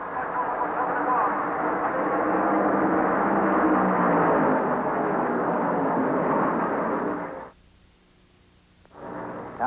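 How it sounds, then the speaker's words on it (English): A pack of NASCAR stock cars, led by a Mercury, accelerates on the green flag at Darlington Raceway with a loud, steady, droning engine roar that holds for about seven seconds, stops abruptly, then returns. "The green flag is out, and Donnie Allison floors the throttle."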